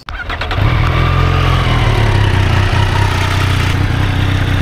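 A Triumph Street Triple 765 RS motorcycle engine cranks with the clutch pulled and catches, then settles into a loud, steady, throbbing idle close by.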